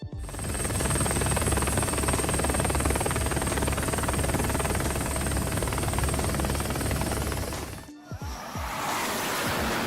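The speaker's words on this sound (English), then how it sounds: "The mission of this helicopter is to herd the cattle back into the pen." A helicopter hovering low while herding cattle toward a pen, a loud continuous rotor and engine roar with a steady whine, breaking off abruptly near the end into a different noisy outdoor rumble.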